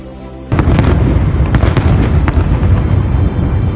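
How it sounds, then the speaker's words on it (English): Fireworks burst over a snowy town in an animated Christmas film, a dense loud crackling roar beginning abruptly after half a second and sustained throughout, with sharp pops and bangs scattered through the din. "Fireworks bloomed above the town"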